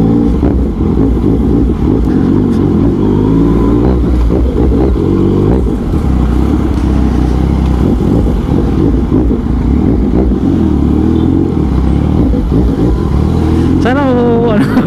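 A Yamaha MT-09 motorcycle engine revs and clatters loudly in a continuous close rumble throughout, with surging throttle swells, as people talk over it.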